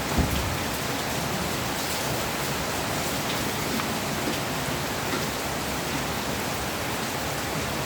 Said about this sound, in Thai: ฝนตกแบบนี้นะคะ